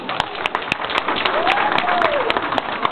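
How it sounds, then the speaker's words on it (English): Applause from an audience ahead of a talent show, steady clapping filling the clip at moderate level, with a brief whistle-like tone rising and falling midway. "give her a round of applause"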